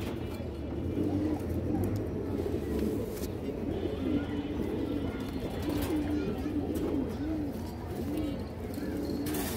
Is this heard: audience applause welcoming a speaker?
no